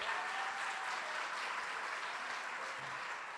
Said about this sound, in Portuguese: pode dar uma salva de palmas a Ele